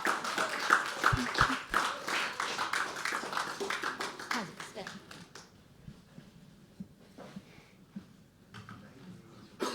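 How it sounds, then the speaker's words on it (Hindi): Audience applause and cheering for a poet at a live poetry open mic at The Habitat: a dense burst of clapping that fades to scattered claps and quieter room noise. "Our huge round of applause"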